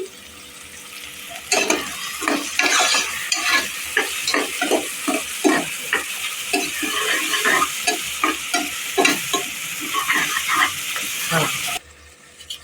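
Curry leaves and ginger-garlic paste fry in a pan, crackling and spitting in repeated bursts as they are stirred, the sizzle fairly close and lively, ending abruptly.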